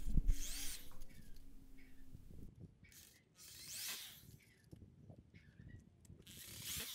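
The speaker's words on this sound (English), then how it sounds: "Then I moved on to screwing in the metal flashing, and I screwed it into the bottom first" A power drill drives screws through metal flashing into the side of a raised garden bed, giving several short whirring bursts with pauses and scraping handling noise between them, close by and with no talking.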